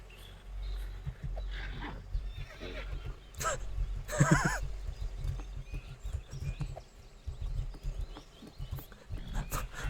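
A video game horse whinnies with a strained, eerie cry among scattered hoof clops and shuffling, moderately loud, with a person talking faintly at times.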